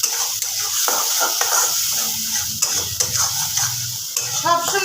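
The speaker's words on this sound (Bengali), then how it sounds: "কন্টিনিউয়াসলি এই পুরটাকে নেড়ে যেতে হবে" A cashew, raisin and melon-seed filling is stirred steadily in a pan, with soft scraping and clinks of a spoon against metal over a faint sizzle, continuous and close.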